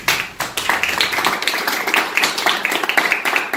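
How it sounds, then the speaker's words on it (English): Applause from a small audience at an Italian-American museum presentation, scattered individual claps that start sparse and fill into an uneven, lively patter close by. "you should give them a round of applause"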